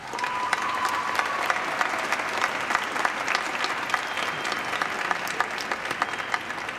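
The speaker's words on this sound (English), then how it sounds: "graduates, I would like you to join me in a round of applause for your parents" A graduation audience claps for the parents in a lively, continuous round of applause with distinct individual claps standing out, and a little crowd murmur underneath.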